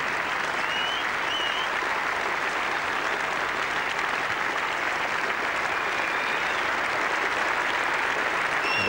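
A Test cricket crowd at Edgbaston stands and applauds David Gower's double century against Australia in 1985, a sustained, even wall of clapping from a large stadium audience.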